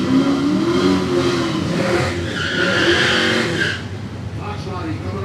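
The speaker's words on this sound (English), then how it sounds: "Fox body coming on the right side" A Fox body drag race car's engine revs and roars loudly at a Florida dragstrip, a sustained engine drone that fades after a few seconds, with an announcer talking over it.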